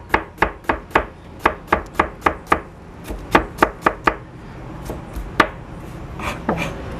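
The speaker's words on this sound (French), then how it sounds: "il émince les oignons" A knife chopping onions on a cutting board for Costa Rican gallo pinto, a quick even run of about a dozen crisp close knocks, then slower scattered cuts with faint background voices.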